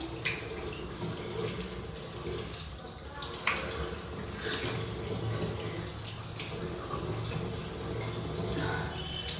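Water runs steadily from a tap into a basin while a face is rinsed after scrubbing, with soft splashes and drips throughout, fairly quiet and close.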